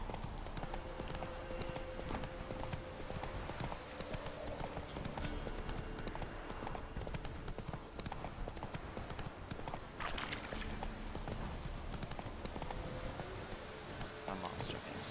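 Roach, the horse in The Witcher 3, gallops with a continuous rapid clip-clop of hooves, close and loud over a busy ambient game mix, with no voices.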